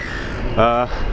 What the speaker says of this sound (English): There were a lot of seagulls around, sorry about the noise.